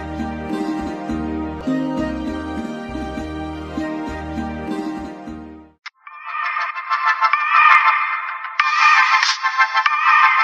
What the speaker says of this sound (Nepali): ए मुसेले पो फोन गर्यो त किन गरेको रहेछ उठाइहाल्नु पर्यो